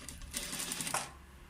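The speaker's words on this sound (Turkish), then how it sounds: "Bakın, normal düz dikiş diker gibi." A sewing machine fitted with a binding attachment stitches bias binding around the neckline of a tank top, a quiet rapid whir lasting about a second before trailing off.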